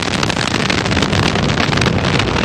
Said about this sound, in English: Booster ignition and liftoff.